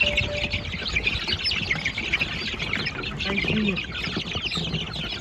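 Chickens cluck and chirp in a busy flock, with a rooster's call rising among the steady background noise of the yard.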